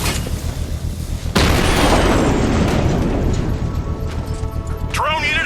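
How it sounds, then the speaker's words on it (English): A loud controlled bomb explosion in Batman: Arkham Knight bursts in with a sudden boom, followed by a long roaring rumble and debris crackle that slowly fades, with a brief electronic chirp near the end. "I can use the power winch to trigger a controlled explosion"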